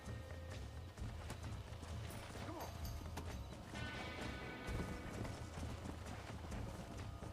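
Horse hooves in the video game Red Dead Redemption, a quick run of clip-clop beats at a galloping pace, close and clear over a busy background of game ambience.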